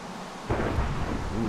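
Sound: thunderstorm in the video game Minecraft

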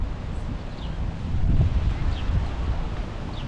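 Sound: wind in the park

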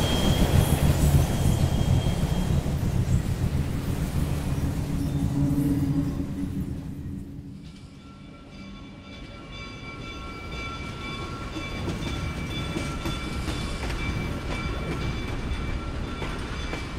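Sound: passenger train running on rails

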